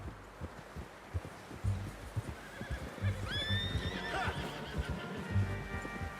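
A horse in the Red Dead Redemption 2 video game gives a clear, loud whinny over steady clip-clop hoofbeats, with the whinny rising and falling midway through.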